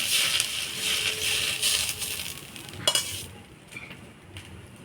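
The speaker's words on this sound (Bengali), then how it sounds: "শাকটা দেখেন ফোড়নের তেলে ভালো করে নাড়াচাড়া করে নিলাম।" Bottle gourd greens are stir-fried in spiced tempered oil, crackling and sizzling up close while a utensil scrapes and tosses them in bursts, then the sound eases to a quieter fry near the end.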